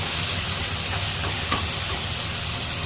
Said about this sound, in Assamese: মাছ ভজা তেলতে আলুখিনি বহাই দিলোঁ। আলুখিনি আগে ভাজি লওঁ।